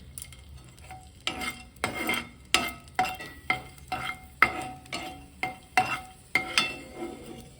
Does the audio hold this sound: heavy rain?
no